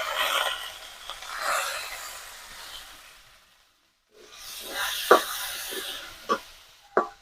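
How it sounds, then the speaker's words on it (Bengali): Rice for pulao hits hot oil in a pan with a loud, close hiss of frying that fades, goes quiet, then flares again with sharp sizzling pops and clatters. "তেল গরম হয়ে গিয়েছে, এবার চালটা দিয়ে দেবো।"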